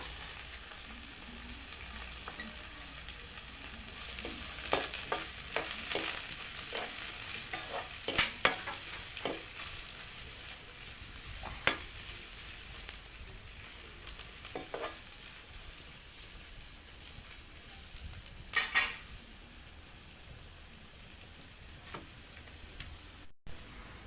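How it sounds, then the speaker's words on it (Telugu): Onions fry in oil with a low, soft sizzle while a utensil stirs them, scraping and tapping the pan in scattered clusters of sharper knocks. "ఒక పావు నూనె పోసుకోవాలి ఒక నాలుగు ఉల్లిగడ్డలు వేయించుకోవాలి"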